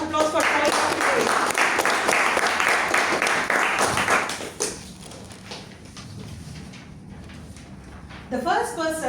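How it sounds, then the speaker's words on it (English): An audience at a Toastmasters club meeting applauding its speakers: loud, rapid clapping from a crowd for about four and a half seconds, then it fades to a few scattered claps and room noise before a voice speaks. "give them a big round of applause for coming up today"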